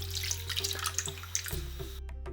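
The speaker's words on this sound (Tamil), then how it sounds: "இதில் கொஞ்சம் தண்ணி விட்டுருங்க." Water splashes into a bowl of squeezed tomato and tamarind while rasam is being prepared, a steady close pour that cuts off abruptly partway through.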